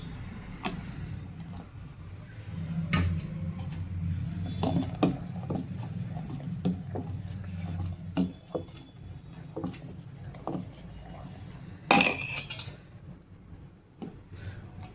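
Thin rice-flour batter is poured and stirred in a pot for pindi vadiyalu, with soft sloshing, scattered spoon taps against the metal and a louder clatter near the end.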